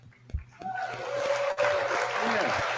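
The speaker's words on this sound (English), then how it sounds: "you don't have to clap when the clapping track is on" A recorded applause track of a clapping crowd swells in after a brief thump and holds as a steady, dense wash of clapping.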